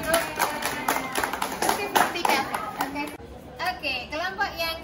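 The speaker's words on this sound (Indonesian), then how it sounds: "Oke, okay, tepuk tangan dulu." A class of ninth-grade students claps in a school classroom during a biotechnology practical assessment, a burst of quick, close hand claps mixed with children's chatter, followed by speaking voices.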